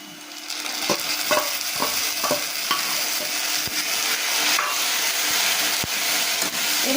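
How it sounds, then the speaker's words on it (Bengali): Chopped onions fry in a pan as a ground spice paste is stirred in. A steady, close sizzle runs throughout, broken by several sharp scraping strokes of the spoon early on and occasional clicks later. "পেঁয়াজটা আমার একটু ভাজা ভাজা হয়ে এসছে এবার আমি বেটে রাখা মশলাগুলো পেঁয়াজের মধ্যে দিয়ে দেবো"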